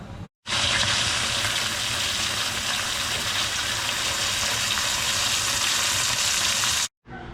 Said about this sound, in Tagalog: Papakuluan natin yan. Hanggang sa lumampot siya.